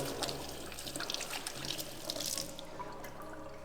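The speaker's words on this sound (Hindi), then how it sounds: "और ये हाथ भी थोड़े से मैं धो लूँ" Water from a kitchen tap runs steadily into a sink in an open kitchen as hands are washed, a continuous splashing stream at close range with no talking.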